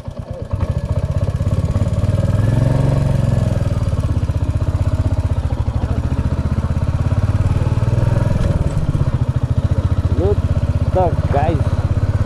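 A motorcycle engine idles steadily after the bike is pulled over by the roadside, a continuous low throbbing rumble heard up close, with a few brief high chirps near the end.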